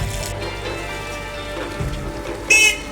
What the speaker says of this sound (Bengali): খুব বেশি বৃষ্টি